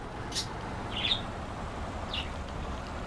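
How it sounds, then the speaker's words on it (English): A forest bird chirps early in the morning, giving three short, sharp calls spaced across about three seconds, bright against a steady outdoor hiss with no talking. "Oh, bird!"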